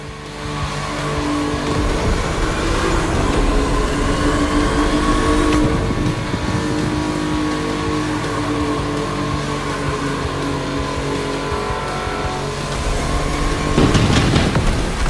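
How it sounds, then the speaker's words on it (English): Porsche 911 race car engine at full throttle, a loud sustained roar with rising and shifting pitch that runs throughout, ending in a brief surge of revving and tire noise, no talking. "If you wanna push the car to its limit, now is the time."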